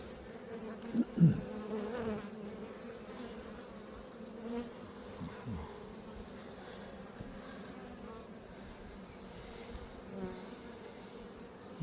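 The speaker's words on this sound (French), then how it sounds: "Petite abeille, là, une jeune abeille." Honeybees from a wild swarm buzzing softly and steadily at the hive during an apiary inspection, a faint continuous hum with a few nearer passes, while a person talks quietly.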